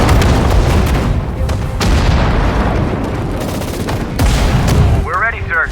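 Infantry gunfire in Sudden Strike 4, a loud, continuous battlefield din of rapid rifle and machine-gun bursts mixed with booms, plus a brief shouted voice near the end.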